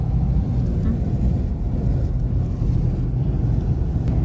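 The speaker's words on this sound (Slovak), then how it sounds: "A fučí, strašne fučí. Extrémne fučí." Strong wind buffets the microphone on the Lofoten islands, a loud continuous low roar with gusty swells and no break.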